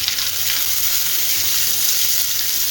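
Cumin seeds and bay leaf sizzle in hot oil as a tempering, a loud, close, continuous crackling hiss that holds steady throughout.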